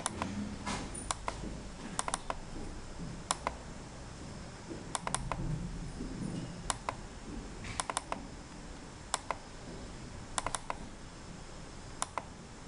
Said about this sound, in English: select the cross section, double click it